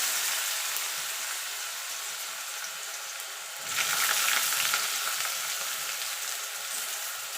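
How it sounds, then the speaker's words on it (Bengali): Sliced potatoes fry in oil in a pan, a steady close sizzle that swells louder midway as they are stirred, then settles into an even crackling hiss. "আলুটাকে দিয়ে একটু ভাজা ভাজা করে নেব।"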